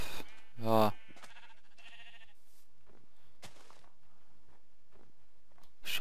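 A single short sheep bleat from the Minecraft video game sounds near the start, followed by soft game noises and quiet stretches.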